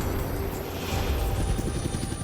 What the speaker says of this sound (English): Children's Mercy sent a helicopter to get Bri.